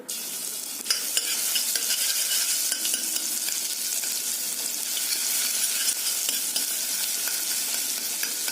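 Garlic frying in oil for an Egyptian koshari sauce gives a steady, bright sizzle with light stirring throughout, fairly quiet and with no voices.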